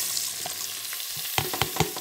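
Chicken pieces and onion frying in a pan with a steady hiss of sizzling oil, broken near the end by several sharp, louder clatters of stirring against the pan; no one speaks.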